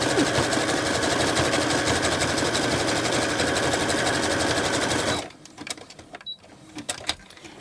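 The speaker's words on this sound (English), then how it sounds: "Love the sound of the sewing machine." A sewing machine runs a zigzag stitch through fabric with basic thread, a loud rapid continuous chatter for about five seconds before stopping abruptly, leaving faint handling clicks.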